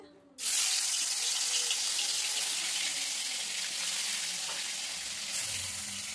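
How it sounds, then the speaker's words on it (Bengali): Bhola fish hits hot oil in a kadai: after a brief quiet moment a loud, close sizzle bursts in suddenly and holds steady, a dense hiss of spattering oil to the end. "তো চলো মাছটা ছেড়ে দিই, তেল গরম হয়ে গেছে।"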